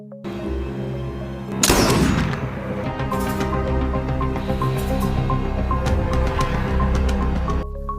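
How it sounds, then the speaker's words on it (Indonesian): A single sharp rifle crack from a sniper aimed at a hospital wall hits loudly, then rings into a sustained, echoing tail over a tonal film score. "The Jackal mencoba untuk menembak dinding rumah sakit untuk mengukur akurasi"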